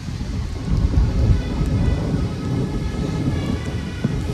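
Steady rain pours down with low rumbling thunder beneath it, a dense continuous wash that stays loud throughout with no voices.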